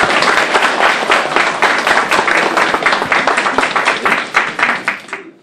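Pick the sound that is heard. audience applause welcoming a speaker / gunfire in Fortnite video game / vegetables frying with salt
audience applause welcoming a speaker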